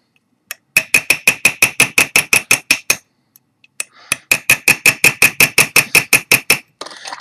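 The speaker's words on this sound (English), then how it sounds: "A hammer and a chisel." A hammer strikes a chisel on a nickel coin in two fast, even runs of sharp ringing taps, about a dozen each, separated by a short pause.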